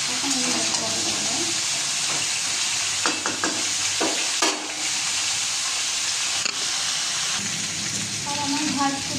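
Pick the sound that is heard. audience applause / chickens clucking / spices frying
spices frying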